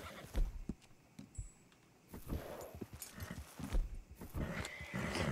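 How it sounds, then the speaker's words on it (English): A horse in a snowy area near a lake in the video game Red Dead Redemption 2 makes a series of soft, uneven hoof thuds and snorts, fairly faint and close. "This horse is in the snow."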